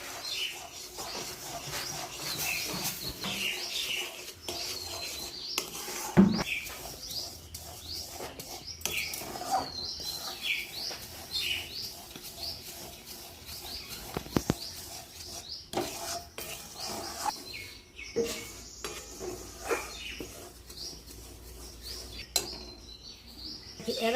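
Jaggery melting in a pot for puffed rice balls, stirred continuously with a spoon, faint scraping and soft clinks over a low hiss, with occasional sharper knocks against the pot; no speech.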